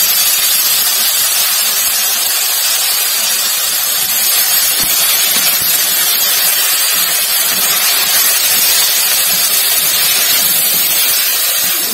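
Green peas dropped into a hot pan for a potato-pea saloni hiss and sizzle loudly and steadily, a close, bright, dense crackle that holds unbroken throughout.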